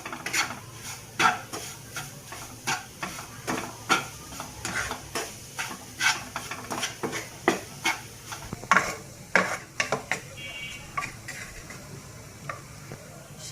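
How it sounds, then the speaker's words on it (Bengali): Pitha mixture with semolina frying in a little soybean oil in a pan, a spoon scraping and stirring in a steady run of sharp clicks over a soft sizzle, close and fairly quiet, with no voices. "সামান্য পরিমাণের মতো সয়াবিন তেল দিয়ে এভাবে 3 মিনিটের মতো একটু ভেজে নেব।"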